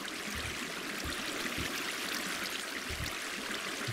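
Water flows in Minecraft as a constant rushing, hissing stream, close and even throughout, with faint low knocks underneath and no voices.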